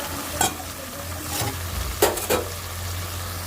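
Fish curry bubbles and sizzles gently in a pan, with a few sharp scrapes of a spoon stirring it close by.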